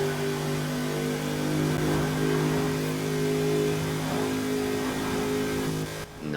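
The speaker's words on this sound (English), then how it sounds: "I'll get you to listen to the Racing V8 when we get into the next tunnel" Racing V8 of a 2008 BMW M3 GTS roaring through a tunnel in Forza Horizon 4, a loud sustained high-revving drone with steady harmonic pitch that drops off abruptly near the end.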